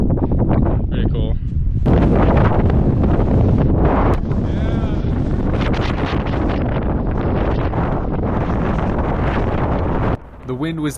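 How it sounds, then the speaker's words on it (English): Strong wind blasting across the Mount Washington summit, roaring loudly and steadily against the microphone for nearly the whole stretch, with a brief drop near the end. "The wind was absolutely blasting up here"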